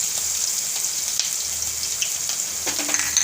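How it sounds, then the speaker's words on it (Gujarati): Onions sizzle steadily in hot oil with green chillies and asafoetida while cooking shakariya bateta nu shaak, a soft, continuous frying hiss with faint crackles and a brief stir near the end; no talk. "હવે આપણે આ ડુંગળી પહેલાં નાખી દેવું."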